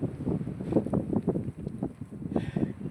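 Strong gusty wind blows across an open field where goats graze in the windy May–June season. It makes a steady, pulsing rush with repeated gusts swelling and fading close to the microphone, and no one speaks.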